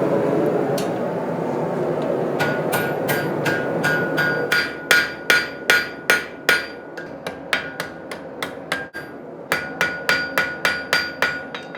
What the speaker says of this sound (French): alors on prend le marteau